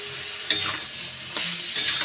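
Onions frying in a pan, a steady, close sizzle broken by three distinct spatula scrapes as they are stirred, ending abruptly.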